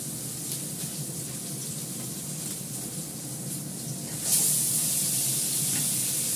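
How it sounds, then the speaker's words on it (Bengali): Fish seasoned with turmeric, salt and Kashmiri chili powder fries in hot oil, giving a close, steady sizzling hiss that turns brighter and louder near the end, with no talk. "মাছটা ভাজা হয়ে গেছে, নামিয়ে ফেলবো।"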